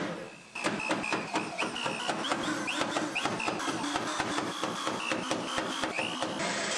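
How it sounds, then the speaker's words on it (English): Rapid rhythmic drilling of small 1/8 inch holes into the spot welds of a 1965 Mustang steel body, a busy close mechanical chatter with repeated short bursts running steadily throughout. "Drill the 1/8 inch holes."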